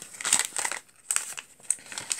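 Clear plastic packaging around a clear stamp is crinkled and pulled open up close, giving quick bursts of rustling and crackling with brief pauses between.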